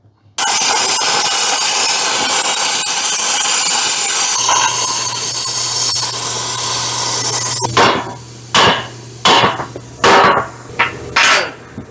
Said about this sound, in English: Let me fire a plasma cutter up.